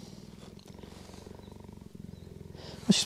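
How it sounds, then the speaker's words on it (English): A close, steady purr from a mother cheetah near her cubs, a low rhythmic rumble that runs almost continuously with a brief pause, ending with a short high chirp. "she's purring, too"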